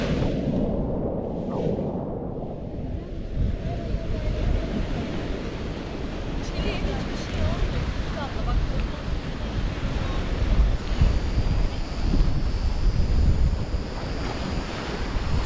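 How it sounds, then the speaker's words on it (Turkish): Sea waves surge and break against a rocky shore at Turnalı on the Muğla coast, a continuous loud roar with rolling swells and heavy wind buffeting the microphone throughout. "Şu anda şu dalgadan giremedim."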